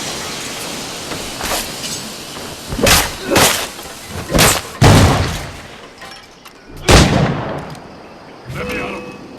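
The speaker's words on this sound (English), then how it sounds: "Grenade!" Several heavy booming blasts from grenades going off in Assassin's Creed 4 Black Flag, spaced a second or two apart amid combat noise, with voices shouting between the explosions.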